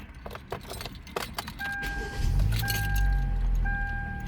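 Keys jangle in several quick clinks before a 2012 Hyundai Elantra, just repaired for a crank position sensor fault, starts and settles into a steady low idle, with a chime beeping repeatedly nearby and no talk.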